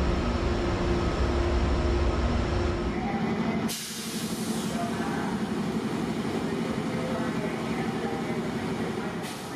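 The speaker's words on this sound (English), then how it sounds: "Our train today is headed by two General Electric P42 DC locomotives." Amtrak Coast Starlight passenger train headed by two General Electric P42 DC locomotives, a steady broad rumble of running train noise that drops abruptly partway through and then continues, with a faint hiss and no talk.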